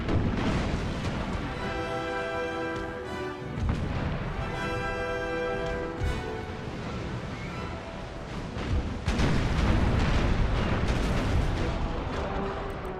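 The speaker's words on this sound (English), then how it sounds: "We're going to keep firing because we want these ships to give up." Repeated heavy cannon booms from a naval battle in Empire: Total War, rumbling over continuous music and effects, with a louder flurry of shots near the end.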